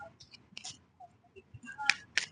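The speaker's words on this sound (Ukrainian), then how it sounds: "Посипалися мені карти." Several sharp papery slaps and flicks of tarot cards spilling out of a deck onto a surface, close and brief, with faint soft rustling between them.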